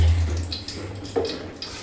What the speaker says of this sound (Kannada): ಈಗ ನೀರು ತೆಗಿತಾರೆ ಮಮ್ಮಿ